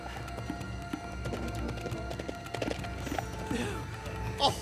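Hooves of a galloping horse in an animated cartoon film clip-clop at a quick, uneven pace amid a busy, clattering background, with a brief louder thump near the end.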